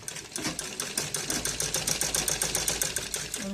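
A sewing machine stitches the shoulder seam of a net cloth ladies' suit in a fast, steady run of rhythmic needle clatter, close and continuous.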